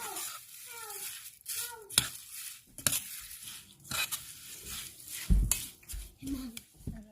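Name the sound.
stirring plantain herb mixture in oil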